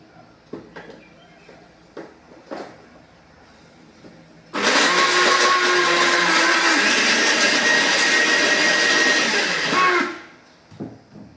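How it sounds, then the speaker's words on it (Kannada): A mixer grinder whirs loudly for about six seconds, blending flaxseed chutney powder with tamarind and jaggery, starting abruptly and cutting off, with faint clinks and quiet handling before and after. "ಹುಣಸೆಹಣ್ಣು ಬೆಲ್ಲ ಹಾಕಿ ಮತ್ತೊಂದು ಸಲ ತಿರುಗಿಸಿ"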